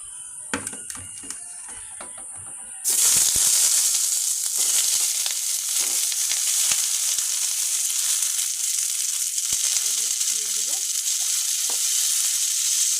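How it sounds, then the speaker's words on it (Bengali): Stuffed pointed gourd frying in a pan lets out a loud, steady, close hiss of hot oil that starts abruptly and holds throughout, with a few faint clinks and a brief bit of distant voice beneath. "পেস্ট করব ভেজে নেব"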